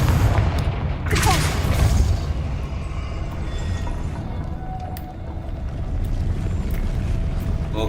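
A Confringo fire spell blast in Hogwarts Legacy: one loud, deep boom near the start that rolls into a long, rumbling wash of noise as the blast dies away.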